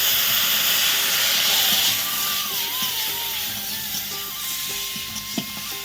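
Steam hisses steadily as a little water is added to a pan of river oysters cooking, a broad close hiss with faint kitchen clinks and a soft background whine.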